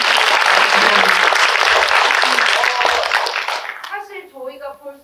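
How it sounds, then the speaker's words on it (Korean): A crowd's loud sustained applause fills a film screening Q&A for The Killers, then fades out as a voice begins speaking. "심은경 배우님께도 박수 한번 부탁드리겠습니다."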